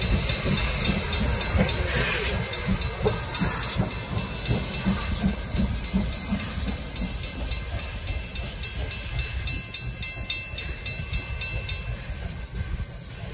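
Steam locomotive SOO Line 1003 rumbles past nearby in reverse, with hissing and squealing wheels, a continuous heavy roar with faint rhythmic clatter, slowly easing toward the end.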